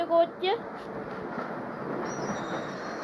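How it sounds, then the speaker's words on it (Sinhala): A train rolls past with a steady rumble and faint wheel squeal, preceded by a couple of brief high whistling tones. "කෝච්චිය අපි පෙරදුවා කොහොමයි"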